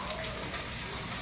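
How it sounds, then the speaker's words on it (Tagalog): Light drizzle falling outdoors, an even, hissing patter of fine rain that holds steady throughout the short stretch. "Ambon lang yan."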